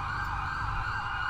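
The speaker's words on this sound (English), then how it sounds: "here comes our ambulance now" An ambulance siren in the GTA video game wails steadily with a sweeping tone, loud and continuous over a low engine rumble, with no talk.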